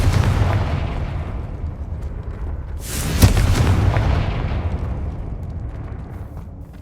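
Confringo, an explosive fire spell in the Hogwarts Legacy video game, goes off as a loud, close boom with a sharp blast at its peak, rumbling steadily before and fading slowly after.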